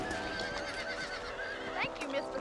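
Horses whinny in Red Dead Redemption, a high wavering neigh rising briefly over game ambience and a dense mix with voices, with faint hoof clatter underneath.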